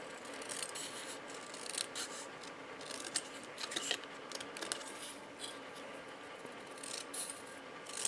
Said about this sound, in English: Now you can trim it on your trimmer or trim it with scissors